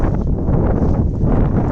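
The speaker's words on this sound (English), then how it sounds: "It's super windy right now." Strong storm wind buffeting the microphone outdoors, a loud, dense low rumble that roars continuously with no pauses and no speech.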